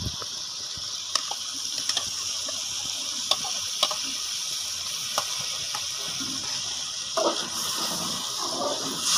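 Tomato paste stirs and cooks in a pan for a chicken macaroni pizza, giving a steady soft sizzle with occasional scrapes and taps of the spoon.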